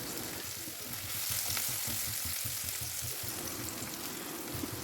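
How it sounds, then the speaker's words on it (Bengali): Chopped onion fries in a pan with a little salt for duck curry, a steady close sizzle with faint stirring scrapes running throughout, no voices. "পেঁয়াজ কুচিটাকে একটু নাড়াচাড়া করে দুই মিনিটের মতন ভেজে নিব ব্রাউন কালার আসা পর্যন্ত"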